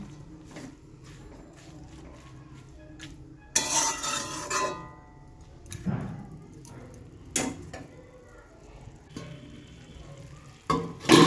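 Greens being stirred in a pan for a village-style leafy-greens dish, heard as intermittent scraping and clinking of a spatula with a short burst of sizzling partway through. Quiet spells separate the strokes.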